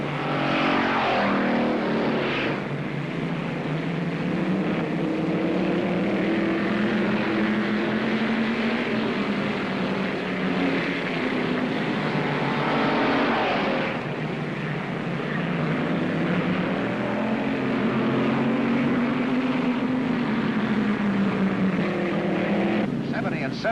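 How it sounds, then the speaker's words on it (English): Race cars roar around a track in a close wheel-to-wheel duel, a continuous loud engine drone rising and falling in pitch as they pass, with a commentator talking over it throughout. "Randall and Conroy racing hub to hub."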